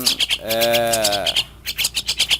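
A Javan myna sings a rich, varied song of repeated chirps and a long warbling whistle, close and clear, with no talking.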